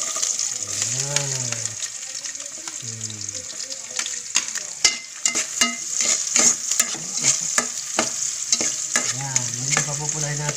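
Ginger sizzles in a hot pan while being stirred, steady frying with repeated scraping clinks of a utensil, close and loud; a voice talks intermittently over it.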